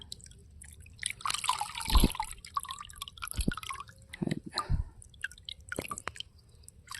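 Water poured out with Padma river fish fry of rohu and catla, splashing and dripping in scattered wet bursts close by, with splashy gurgles and trickles between pauses.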